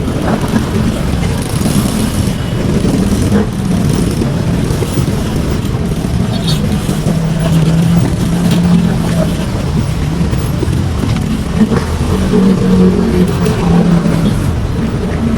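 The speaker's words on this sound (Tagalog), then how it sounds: "traffic na tayo guys" Steady road traffic around a rider on the way from Masantol to Batangas, a continuous low engine rumble with passing vehicles and occasional revving, loud and close throughout.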